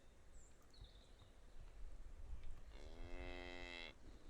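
Cow-like creatures in the video game Geneforge let out one long, loud moo in the later part of the moment, rising out of a quiet rustling background after a few faint chirps.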